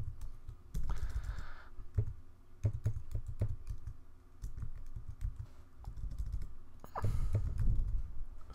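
Typing on a computer keyboard while editing in Final Cut Pro X, heard as several bursts of fast, close clicking keystrokes separated by brief pauses, with no one speaking.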